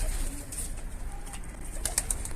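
Pigeons softly cooing with brief bursts of wing flapping, fairly quiet and close, with scattered rustles and flutters over a low background.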